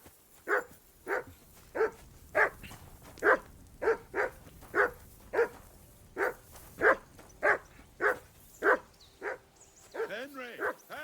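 A dog barks repeatedly in the medieval video game Kingdom Come: Deliverance II, a steady run of evenly spaced, sharp barks close by, about fifteen in a row, ending with a short whine.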